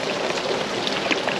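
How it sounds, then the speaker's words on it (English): Heavy rain falls on a sailboat at a secluded anchorage, a dense, even patter of drops close by that continues without pause. "there's a lot of rain"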